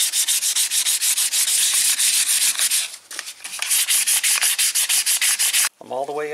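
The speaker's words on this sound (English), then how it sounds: "I definitely like to do the Scotch-Brite in this direction, because I feel like it gets in between each fret better and hits the side of each fret." A gray Scotch-Brite pad scrubs across guitar frets in a fast, steady back-and-forth rhythm, each stroke a close, loud, dry rasp, briefly pausing near the end before a short tonal sound.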